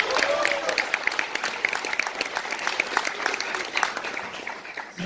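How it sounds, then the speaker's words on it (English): An audience at a university startup launch event applauds in a dense, sustained wash of clapping that holds evenly for several seconds at moderate volume. "can I get a round of applause for them again?"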